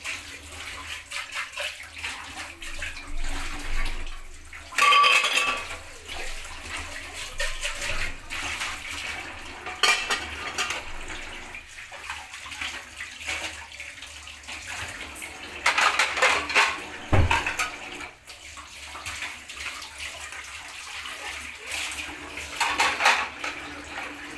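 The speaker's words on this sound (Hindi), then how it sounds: "बर्तन मेरे तकरीबन धुल गए हैं।" Dishes being washed in a home kitchen sink, with running tap water splashing and the clatter and clink of utensils and pots being rinsed and set down, irregular bursts over a steady stream.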